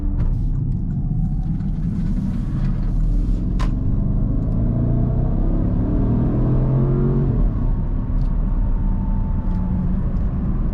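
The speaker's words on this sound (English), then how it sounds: "this thrilling, awesome drive of this 2013 Porsche Cayenne Turbo" 2013 Porsche Cayenne Turbo driving on the road, with a steady loud low engine rumble and road noise, a rising tone near the middle as it accelerates, no talk over it.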